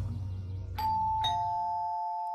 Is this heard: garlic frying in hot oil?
no